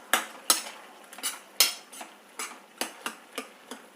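A masher repeatedly thuds against a pot of cooked dal, spinach stems and green chillies, giving about a dozen distinct knocking strokes at an uneven rhythm, close and fairly faint, with no voices.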